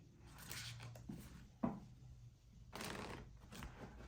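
A tarot deck is shuffled by hand in soft, close, quiet bursts of riffling and sliding cards, separated by brief pauses.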